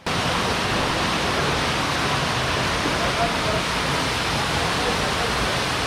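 Gizlikent waterfall near Fethiye in Seydikemer, Muğla, gives a loud, unbroken rush of falling water, steady from start to end.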